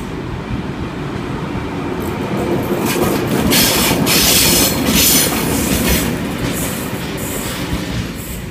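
Two 45 class locomotives, 4490 and 4520, haul a power van through Epping in Sydney, a loud, close and steady rumble of engines and wheels on rail with clattering and a squeal, and no talking.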